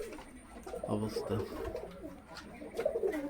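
Fancy pet pigeons coo softly in a loft, low rolling calls repeating under a person talking nearby.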